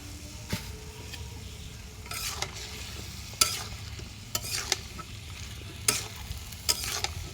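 Tilapia frying in a pan with vegetables, a continuous close sizzle broken by repeated scraping stirs and occasional sharp clinks of a utensil against the pan.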